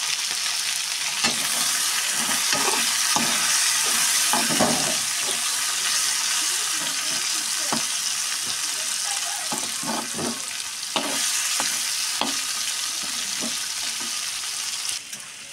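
Tomatoes and green chillies frying in a pan, a steady close sizzle with scattered scraping and stirring clicks from a utensil, continuous without any talking.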